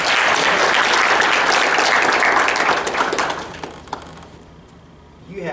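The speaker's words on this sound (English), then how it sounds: "if you would help me with a round of applause" Audience at a college lecture applauds to welcome a speaker, a loud dense wash of clapping that holds strong for about three seconds, then thins out and fades to near silence with a few scattered claps.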